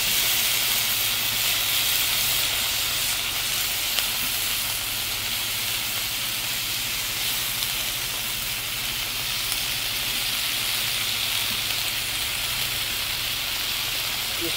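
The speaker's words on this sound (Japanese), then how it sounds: "アルコールバーナー。" Alcohol burner hissing steadily while cooking a cabbage hamburger patty, a continuous bright sizzling hiss close by that holds unbroken from start to finish.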